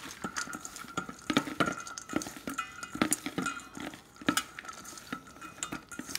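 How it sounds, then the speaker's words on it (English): A utensil stirs a spicy shrimp taco mixture in a pan, with repeated clinking and scraping strokes against the metal that are fairly quiet and close, with no talking. "Mix it all up"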